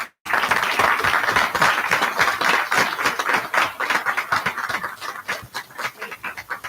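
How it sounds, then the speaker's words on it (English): Audience at a board of trustees meeting breaks into dense, sustained applause. The clapping is loud and continuous, easing slightly toward the end. "let's give them a round of applause"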